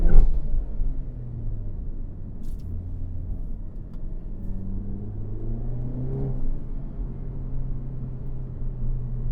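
Exhaust of a 2025 Hyundai Elantra N with a DCT gearbox under acceleration, a steady low engine drone with gently rising tones, moderately loud from inside the cabin, no talk.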